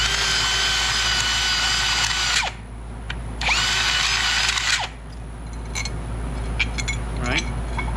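A power drill countersinks a hole in an astromech droid ankle part, two loud high whirring bursts separated by a short pause, followed by quieter clinks and handling noises.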